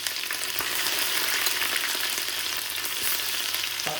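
Ginger and garlic frying in hot oil for an Indian restaurant-style base gravy, a steady close sizzle with crackling pops throughout and no talking.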